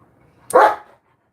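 A single short dog bark at a dog compound, close and fairly loud, standing alone against a quiet background.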